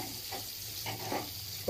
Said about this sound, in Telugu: మీడియం సైజు ఉల్లిగడ్డలు ఒక 3 సన్న కట్ చేసుకొని వేసుకోవాలండి. ఇదంతా మంచి కలుపుకోవాలండి